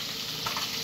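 Onions fry in a pan, giving a steady, close hiss and sizzle with small crackles throughout this brief moment.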